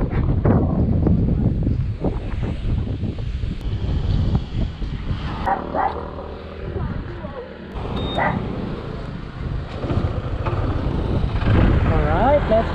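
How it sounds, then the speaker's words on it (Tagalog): Strong wind buffets the microphone on a ride up the road toward Tagaytay around the Taal Lake loop, a loud, steady rumble with gusts, mixed with passing traffic noise throughout. "lakas ng hangin"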